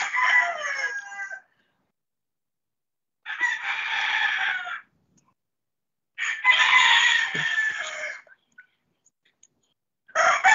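A rooster crows loudly and close by, repeating the call several times with short silent gaps between each crow.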